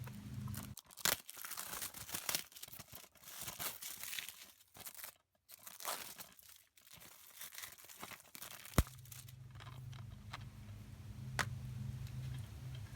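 Plastic packaging torn and crinkled off a film disc case, with close, uneven rustling, crackles and sharp ticks, followed by a quieter hum.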